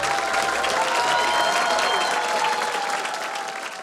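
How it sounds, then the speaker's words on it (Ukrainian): Loud, dense applause from a theatre audience after a poem reading on a Ukrainian talent show, sustained throughout with a steady crowd roar that eases slightly toward the end. "Ваші оплески!"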